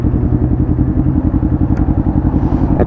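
Kawasaki Ninja motorcycle engine idling loud and close, a fast, even, pulsing throb with a slight mechanical clatter, running steadily without any talk.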